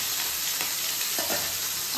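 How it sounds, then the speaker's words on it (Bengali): Fish crisping in hot oil gives a loud, dense, close sizzle that holds steady throughout, with a couple of brief spatter pops and no voices. "মাছ ভাজা হচ্ছে"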